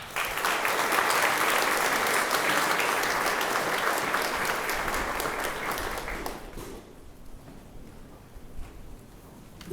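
Audience applause at a school awards ceremony, full and steady for about six seconds before thinning to scattered claps and fading out.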